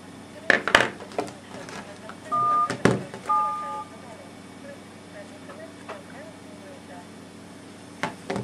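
An iMAN S1 Pro rugged mobile phone plays short electronic keypad tones while a call is dialed, a few brief beeps among handling clicks, with someone speaking in Russian.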